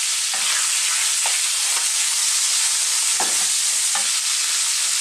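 Chicken thighs frying in a pan, a steady, even sizzle of hot fat with a few soft stirring or shifting knocks scattered through, close and moderately loud with no talking.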